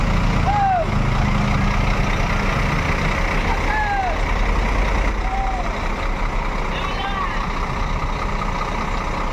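A Parlente SR3 coach backs up with a rumbling diesel idle, repeated chirping reversing beeps sounding at intervals, and a voice talking over the engine.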